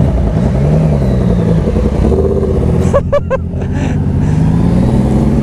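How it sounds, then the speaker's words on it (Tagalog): Motorcycle engine revving up and down close by, a loud continuous drone with rising and falling pitch, plus a brief burst of higher tonal sounds partway through, out on a wet road in the rain. "Pangit ng motor mo."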